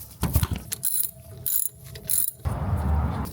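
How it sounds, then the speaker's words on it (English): A 12mm socket ratchet works loose the thermostat housing nuts on a Mazda Miata, giving several close, sharp bursts of rapid clicking, with a heavier grinding turn at the end. "Grab a 12mm and break loose these nuts."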